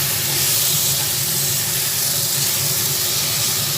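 Potatoes fry with salt and spices in a pan over a low gas flame, giving a dense, steady hiss and sizzle heard close up, with no pauses and no voices.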